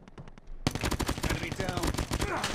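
Rapid automatic gunfire from Call of Duty Mobile, a dense burst of close, loud shots following a few quieter taps, shooting through a wall.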